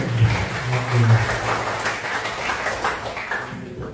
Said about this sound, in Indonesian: Aplaus untuk Bu Andre